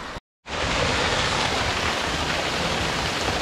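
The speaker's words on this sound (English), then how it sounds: "Cool little waterfall." Svartifoss waterfall in Skaftafell, Iceland, falling over basalt columns, a steady loud broadband roar heard close up that starts after a brief moment of silence and then holds constant.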